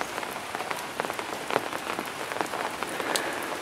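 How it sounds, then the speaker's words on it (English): Heavy rain falls steadily on a hilltop swimming pool construction site, a dense continuous patter of drops close by with no voices. "There's just so much rain has been falling."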